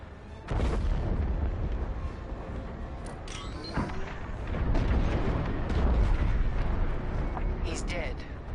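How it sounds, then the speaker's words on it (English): A frigate blows up in Star Wars Squadrons, with loud rumbling explosions and booming blasts that swell over several seconds beneath voices talking. "The frigate is about to explode."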